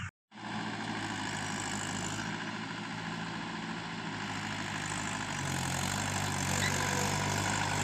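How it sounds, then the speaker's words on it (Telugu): A tractor pulling a plough across a palm oil plantation site produces a steady, close engine drone that holds constant and grows slightly heavier toward the end. "ప్రజెంట్ మన పామ్ ఆయిల్ సైట్లోకి ప్లవ్ కొట్టిస్తున్నాం అనమాట. ట్రాక్టర్ ఇంకోటి వర్క్ చేస్తుంది"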